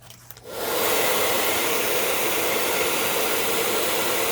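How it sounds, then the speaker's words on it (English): A hair dryer switches on after a brief quiet moment and then blows with a steady, loud, close whooshing roar. "you're going to hear my glorious hair dryer"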